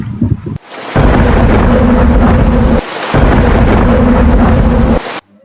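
Heavy rain pours down in a thunderstorm with rolling thunder, loud and continuous in two long bursts broken by a brief pause, no voices.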